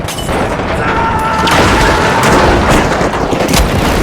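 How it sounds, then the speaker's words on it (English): Frag grenade and RPG explosions in The Finals, a destructible-arena multiplayer shooter, form a loud, continuous wall of booming blasts and gunfire that swells around the midpoint, with faint voices beneath. "RPG away! Frag out! Throw the frag!"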